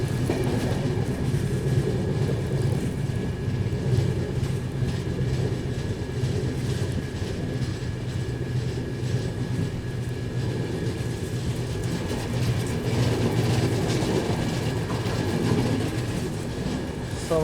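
A train running through Sawai Madhopur Junction railway station in India on a cold day, a steady loud rumble with faint rhythmic clatter of wheels and a continuous hum, heard alone for many seconds.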